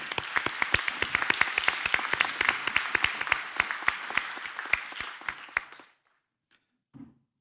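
Audience applause for graduates at a 2021 graduation ceremony, a dense burst of clapping lasting about six seconds before stopping abruptly, followed by near silence and a faint bump.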